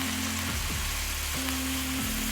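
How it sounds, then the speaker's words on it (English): A pan of blackened steak sizzles steadily as white wine goes in to deglaze, a dense, loud, continuous frying hiss over a low hum, with no talking. "Next, we're going to take a little bit of white wine. We're going to deglaze this baby."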